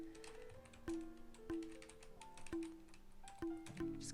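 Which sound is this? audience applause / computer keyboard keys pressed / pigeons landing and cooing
computer keyboard keys pressed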